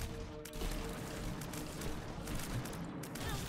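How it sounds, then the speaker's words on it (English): Rapid, dense gunfire from a shotgun in The Binding of Isaac Repentance video game, a loud continuous barrage of shots with no speech. "We can literally crit with our shotgun."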